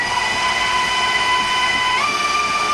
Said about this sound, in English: I like having any excuse to be able to take out the meat grinder or the grinder attachment for our KitchenAid mixer here